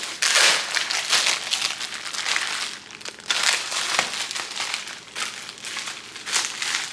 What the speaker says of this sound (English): Let me go ahead and unwrap it, because looking at it in the bubble wrap, I was confused.